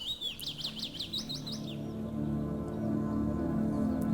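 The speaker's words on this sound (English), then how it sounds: "There's a lot of birds out here." Birds chirp in a quick run of bright, rising tweets in the video game Runo, then fade into a steady low ambient hum for the rest of the moment.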